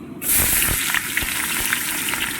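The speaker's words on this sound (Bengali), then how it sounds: "আর ছেড়ে দিচ্ছি এই যে পেঁয়াজ কুচা।" Chopped onion drops into hot Fortune oil with whole spices and bay leaves, bursting into a loud, steady sizzle that fills the rest of the moment, with a few soft stirring knocks.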